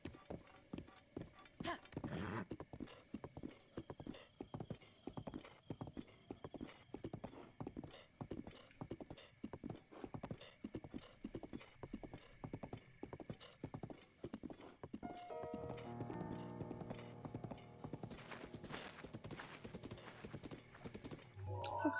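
Horses clip-clop steadily at a stable in the video game Zelda: Breath of the Wild, with an occasional whinny and a layer of background game music that thickens near the end.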